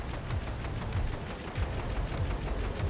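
Machine gun fire in the tank game Panzer Shoot, a dense, loud, continuous rattle of rapid shots with low thumps pulsing underneath, no talking.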